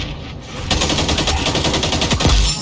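Rapid automatic gunfire from a weapon fitted with an extended magazine in a video game, a dense, loud, steady stream of shots running for about two seconds after a brief quieter lead-in.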